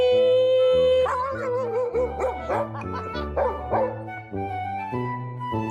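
A dog makes drawn-out, wavering howls and yowling bow-wow barks, loud and close, rising and falling in pitch over about six seconds with no speech.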